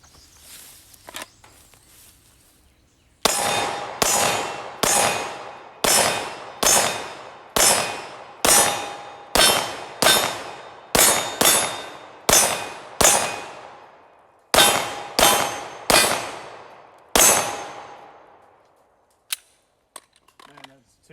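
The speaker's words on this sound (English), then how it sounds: "I'm really excited about these targets. I want to shoot them." Shots ring out against AR500 steel targets in a steady series of about a dozen sharp reports, each followed by a bright metallic ring that decays, with a brief pause partway through and a few faint knocks at the end.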